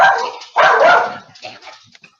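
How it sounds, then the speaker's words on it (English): A dog barks in the background of a late-night live video call: a quick run of loud, sharp barks, then fainter scattered yips trailing off. "Scott's dog's losing it"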